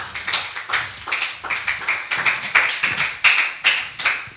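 A church congregation claps together in a steady, even rhythm during a French-language worship service. The sharp, regular claps ring out clearly with no talking over them.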